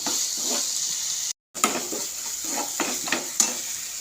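Curry leaves and other ingredients sautéing in a pan, with a steady sizzle and repeated spoon scrapes and stirs, a brief break partway through, then more stirring close by.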